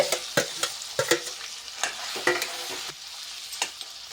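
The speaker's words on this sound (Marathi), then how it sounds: "त्या तुपामध्ये आता हे रताळ्याचं बारीक केलेलं टाकून घ्यायचं" Grated sweet potato frying in homemade ghee in a kadhai, with a spoon scraping and stirring in repeated short strokes over a steady soft sizzle, close by.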